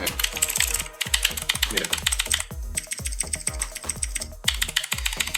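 Rapid clacky keystrokes on a mechanical keyboard with Cherry MX switches, dense and rhythmic, with a brief spoken word near the start.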